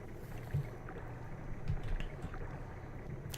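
A boat glides across water during a ride in the video game Undertale, a soft, steady rushing wash with faint low thumps, heard alone.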